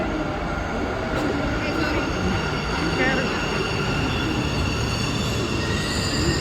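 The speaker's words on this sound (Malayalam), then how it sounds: "മെട്രോ വരുന്നുണ്ട് കാഴ്ച." A metro train arriving at a station, a loud continuous rumble with rising metallic wheel squeal and rail clatter, while people talk nearby.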